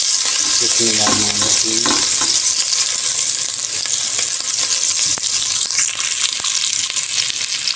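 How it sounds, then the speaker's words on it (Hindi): Chopped green chillies fry in hot cooking oil over a low flame, a loud constant sizzle and hiss with stirring scrapes throughout, while a voice speaks briefly near the start. "कुकिंग ऑयल हमारा गर्म हो चुका है, तो अब हम इसके अंदर शामिल करेंगे 2 हरी मिर्चें चॉप की हुई"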